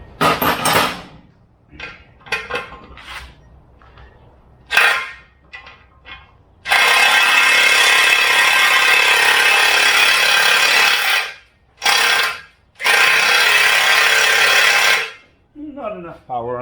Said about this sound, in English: Not enough power on this drill